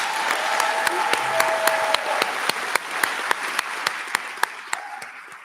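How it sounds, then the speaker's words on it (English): A high school graduation audience applauds the class of 2025: dense, steady clapping from a large crowd, with crisp individual claps popping out above the wash and holding evenly throughout. "Can we get a round of applause for them, please?"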